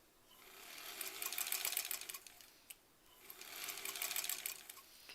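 A home sewing machine stitches a quilt block in two bursts of rapid, even whirring, each swelling up and easing off, with a short pause and a click between them; close and moderately loud, no voices.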